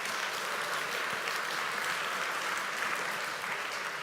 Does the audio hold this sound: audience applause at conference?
yes